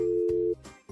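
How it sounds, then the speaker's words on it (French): A residential digital phone line gives a steady, loud dial tone that cuts off after about half a second, followed by short clicks and a brief return of the tone. "Vérifiez si votre téléphone a une tonalité de manœuvre."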